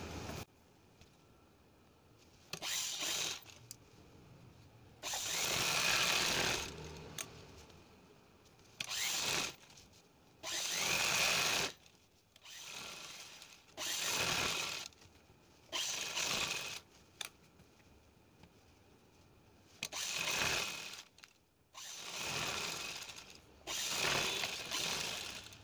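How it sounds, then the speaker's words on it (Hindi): A sewing machine stitches blouse lining to fabric in repeated short runs, each a whirring burst of a few seconds separated by quiet pauses, fairly close and moderately loud. "चलते हैं मशीन पे और इसे स्टिचिंग करके आपको बताते हैं स्टेप बाय स्टेप"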